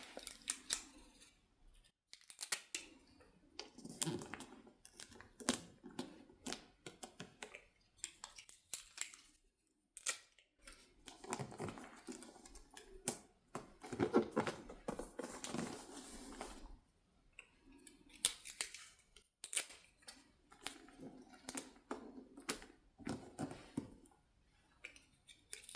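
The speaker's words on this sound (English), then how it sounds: "I think I need to add a bit more tape" Sticky tape pulled and pressed onto wrapping paper around a Christmas present, a run of close, crisp rustling and tearing bursts with short pauses, quiet and intimate, no voice.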